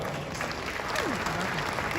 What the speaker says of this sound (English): Please, a big round of applause for Yao Ampofu Ankra.